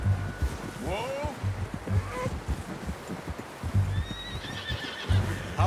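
Horse neighing and whinnying in the video game Red Dead Redemption 2, two shrill calls over steady clip-clopping hooves and a windy outdoor ambience.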